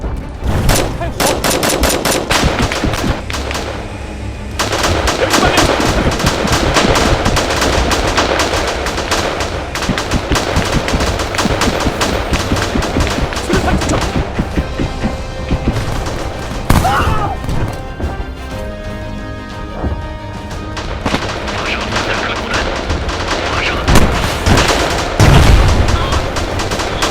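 Machine-gun fire rattles almost without pause in a war simulation video game set in a battle at Tianjin, loud and dense bursts over a continuous battle din with occasional heavier crashes.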